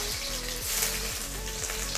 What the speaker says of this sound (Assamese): এয়া মই তেল দি দিছোঁ, তেলখিনি গৰম হৈছে। মই এতিয়া পিঁয়াজ দি দিছোঁ।